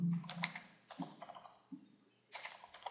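Short bursts of typing on a computer keyboard, close and quiet, with clusters of key clicks separated by brief pauses and no talking.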